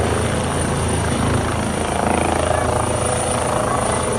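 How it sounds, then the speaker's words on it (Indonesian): A red helicopter flies close by with a loud, continuous, thrumming rotor roar that holds steady throughout, and no voices are heard. "Yang terakhir ada helikopter warna merah ya teman-teman."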